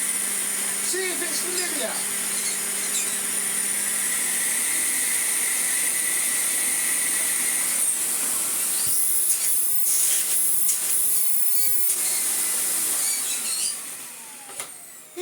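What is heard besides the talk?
AEG Vampyr 7202 vacuum cleaner running on low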